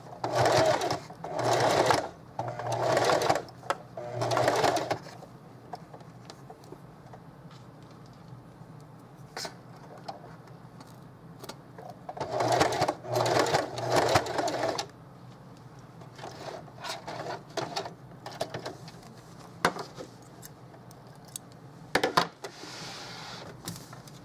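A sewing machine stitches vintage lace for a snap bag in several bursts, rapid mechanical whirring runs of a few seconds each with quiet gaps and small clicks between, close and clear.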